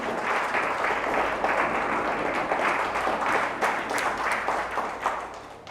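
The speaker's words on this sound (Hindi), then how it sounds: "आइए जोरदार ताली से हम प्रभु को धन्यवाद देते हैं।" A church congregation applauding loudly in thanks, sustained hearty clapping from many people at close range that carries on steadily without a break.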